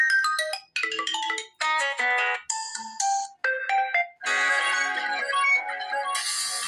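A phone ringtone plays back as a preview in the settings of an Infinix Zero 8, a bright melodic electronic tune in short bursts and phrases with brief gaps, clear and alone.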